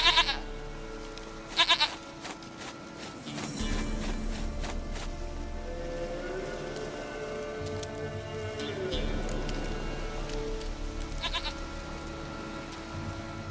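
A goat in The Witcher 3 gives several loud, quavering bleats in bursts across the scene, with music and low rumbling in between.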